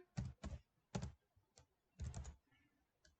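Keystrokes on a computer keyboard come in quick clustered bursts of sharp clicks and thunks, close and fairly quiet, with short pauses between groups and no voices.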